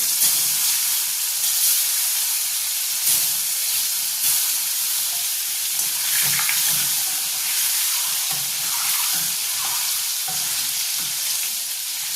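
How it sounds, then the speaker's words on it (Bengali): Eggs fry in hot oil, giving a steady, dense sizzle with scattered crackles and pops throughout, with no voices. "তেলটা গরম হয়ে গেছে, এবার আমি ডিমগুলোকে ভেজে নিই।"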